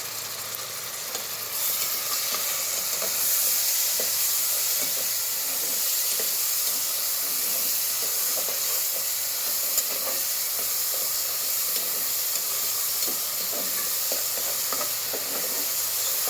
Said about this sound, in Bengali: ভালো করে নাড়াচাড়া করে কুচির মধ্যে রসুনটা একটু বাজা বাজা হলে